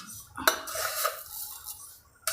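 A spoon whisks curd with sugar in a bowl, making a few close, bright clinks and scrapes against the bowl's side, quiet overall, with a last tap at the end.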